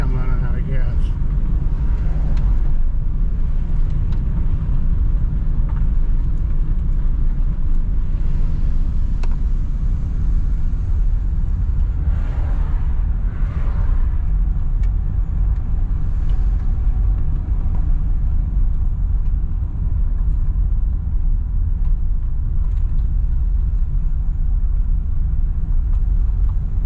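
A 2000 Subaru Impreza coasts along while low on fuel, its steady low engine rumble and road noise continuous throughout, with a person talking over it.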